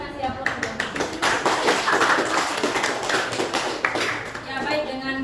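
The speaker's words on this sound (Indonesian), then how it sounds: "Ya, kita kasih aplaus dulu." Classroom applause from a group of students, a steady patter of many hands clapping for several seconds, with children's voices mixed in.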